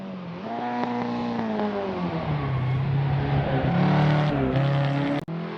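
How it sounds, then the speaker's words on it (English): A 207-horsepower Opel Kadett race car accelerates in wet night racing, its engine revving loud and close with rising and shifting pitch, ending in a sharp sudden cut. "it's the Opel Kadett, 207 horsepower of pure lightweight agility."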